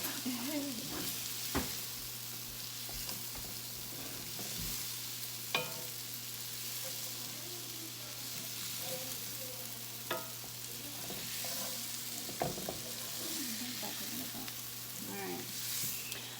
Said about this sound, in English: let the onions get nice and golden. Let the sweet potatoes get good and tender.